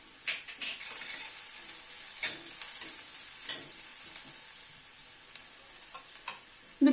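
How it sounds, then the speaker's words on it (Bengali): Garlic, onion and green chili fry gently in a pan for egg Schezwan curry, a soft steady sizzle broken by light scraping stirs of a spatula, quiet and close. "রসুন পেঁয়াজ কাঁচা লঙ্কা তিনটেকে একসাথে আবার একটু ভেজে নিচ্ছি"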